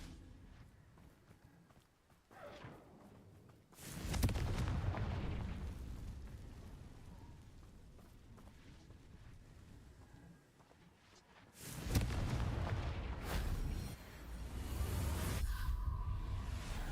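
Confringo fire spell blasts from the Hogwarts Legacy video game, two loud booming bursts a few seconds apart, each followed by a rumbling crackle that slowly fades, with no voices.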